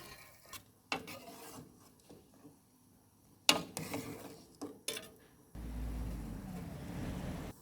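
A spoon clinks and scrapes against a pot while foam is skimmed off boiling pork bone broth, with scattered sharp taps and rubs, then a steady bubbling rush from the simmering pot takes over near the end.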